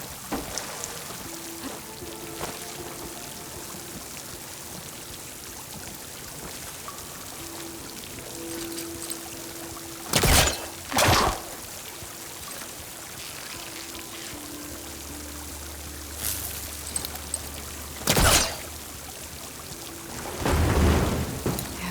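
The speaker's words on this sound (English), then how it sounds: "Water's coming from that vent." In Horizon Forbidden West, water pours steadily from a vent in a continuous rushing wash, with a few louder thumping bursts and low rumbles over the flow.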